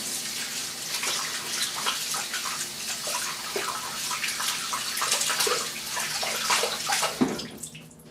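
A tap runs continuously for a cold water shave, a close, steady splashing stream with small clatters near the end as the flow stops.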